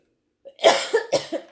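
A single cough followed by a few smaller throat-clearing bursts, close and fairly loud, with no talking.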